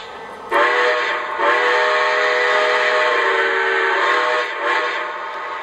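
A low, breathy steam-style whistle from a Lionel Milwaukee Road S3 4-8-4 Northern model locomotive sounds in long sustained blasts, loud and near, with short breaks between them.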